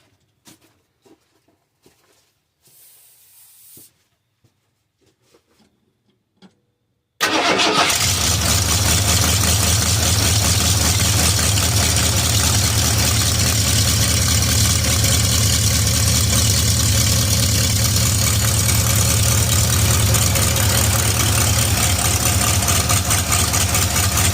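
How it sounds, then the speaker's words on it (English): A carbureted car engine with an Edelbrock carburetor and manual choke closed cranks briefly after some quiet clicks and handling noises, then catches and settles into a loud, steady rumbling idle. "I'm going to go ahead and crank it up with the choke closed, and she should fire right up"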